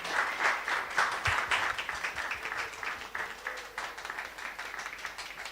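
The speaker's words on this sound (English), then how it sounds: "we can just end with a round of applause for the participants" Audience applauding the participants at the close of a British Council Creatives Garage livestream talk event, steady clapping from a moderately sized crowd, slightly distant, with a faint voice or two underneath.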